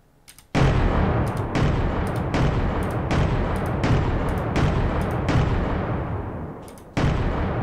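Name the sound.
hard naval cannon firing in video game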